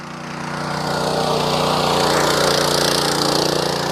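Sraja power weeder tilling soil at normal RPM, a steady loud small-engine drone with buzzing blade churn that swells in the first half second and then holds even and close throughout.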